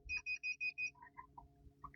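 A multimeter on its continuity buzzer setting while testing a Russell Hobbs pressure cooker gives five evenly spaced, clear beeps, followed by quieter scattered tones and handling clicks.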